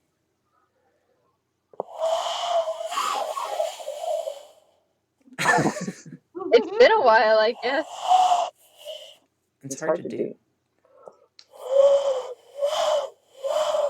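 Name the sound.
person imitating a weird bird call with their voice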